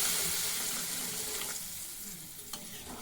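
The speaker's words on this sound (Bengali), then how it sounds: "জল দিয়ে দিচ্ছি।" Water poured into a hot pan of fried dal, cauliflower, potato and tomato gives a hissing sizzle that fades over a few seconds, followed by a couple of soft stirring clinks.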